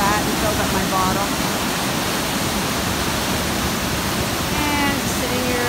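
Waterfalls on a wilderness lake in Temagami rush in a steady, broad roar that fills the whole stretch, with faint bird-like chirps drifting over the constant water noise.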